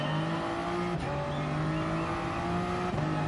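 A Toyota Gr3 race car in GT Sport revs hard through its gears, a loud close engine drone rising in pitch, dropping sharply at two quick upshifts, then climbing again, with no voices.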